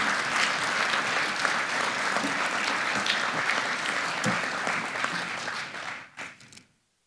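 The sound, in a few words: audience round of applause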